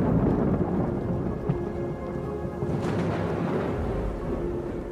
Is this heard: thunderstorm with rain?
yes